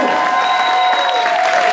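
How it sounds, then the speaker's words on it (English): Applause at a political rally for Virginia Democratic candidates, a dense, steady wash of clapping from a large crowd with some cheering, filling the whole moment without pause. "How about another round of applause for all these great leaders?"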